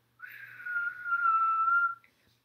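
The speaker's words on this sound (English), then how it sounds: "We would have won, but Buzz blows his whistle," A single sustained whistle blast, steady and fairly loud, holds for nearly two seconds and then cuts off sharply.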